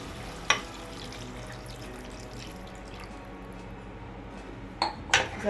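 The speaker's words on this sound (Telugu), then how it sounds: "ఇలా ఆయిల్ సపరేట్ అయిన తర్వాత ఇప్పుడు వాటర్ పోసుకుందాం." Water is poured into chicken curry cooking in a pan, a steady soft pouring and sizzle running throughout, with a couple of sharp clinks of a utensil against the pan near the start and end.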